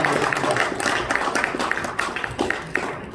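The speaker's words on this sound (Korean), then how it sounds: "큰 박수 부탁드리겠습니다" Crowd applause at a political party ceremony, a steady rustling patter of many hands clapping throughout, fairly close and continuous with a few sharper individual claps.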